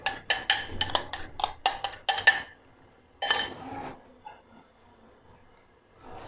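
A spoon stirs chicken nihari with yogurt in a pot, producing a rapid run of sharp metallic clinks and scrapes, then one more clattering stir after a short pause before going quiet.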